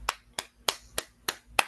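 Slow, evenly spaced hand claps at a youth prayer meeting welcoming a pastor, six sharp claps about three tenths of a second apart, close and distinct with quiet gaps between.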